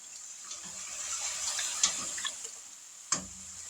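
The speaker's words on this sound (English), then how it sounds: "We're going to add some water because we want enough liquid for these noodles to cook." Water pours into a pot of hamburger soup with tomatoes, a steady trickling splash with a couple of sharp knocks against the pot, close by and without talk.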